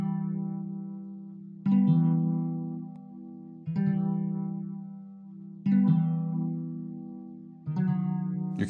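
Acoustic guitar chords sampled and pitched down six semitones, run through a Softube Dirty Tape plugin, ring out as four sustained, warbly chord hits about two seconds apart, each swelling then fading, with no voices.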